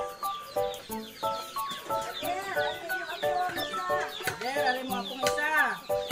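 Chickens cluck and crow repeatedly nearby in an outdoor farmyard, with a person speaking over the busy, overlapping calls.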